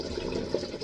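Purified water pours into a water bottle, a short, steady liquid splash and trickle heard up close.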